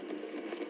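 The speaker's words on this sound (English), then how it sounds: "Recharging my shields." A shield recharging in Apex Legends gives off a steady, buzzing mechanical whir. It holds at an even, fairly loud level for under a second, with no talk over it.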